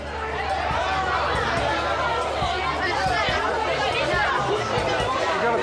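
Busy crowd chatter in a pedestrian precinct, many overlapping voices forming a constant loud babble with footsteps and scattered nearby sounds throughout.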